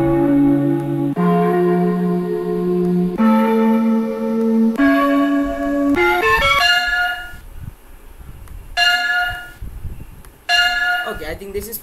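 Bell tones play as a sound effect in a coding project. They come as a series of clear ringing pitches that step upward one after another, then a few quicker bursts of chimes separated by short gaps.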